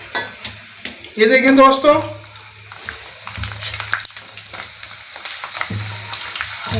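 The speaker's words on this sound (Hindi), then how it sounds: "ऑयल में बस बिल्कुल डालते ही ये पक जाते हैं" Dried potato slices drop into hot oil for homemade Lays-style chips, setting off a loud, close sizzling burst that settles into steady frying crackle while someone speaks briefly.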